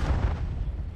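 A grenade explosion in a video game, one deep booming rumble that fills the moment and slowly decays, with no talking over it.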